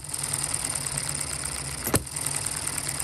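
A hit-and-miss gas engine runs through its cycle, a steady mechanical chug with one sharp firing bang near the middle, close and heard without talk.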